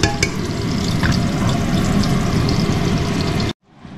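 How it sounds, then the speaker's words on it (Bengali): Khichuri cooking in homemade ghee in a home kitchen gives a steady, loud sizzle and bubbling that runs without a break for about three and a half seconds, then cuts out abruptly to near silence. "এবার খিচুড়ি বানানো শুরু হলো"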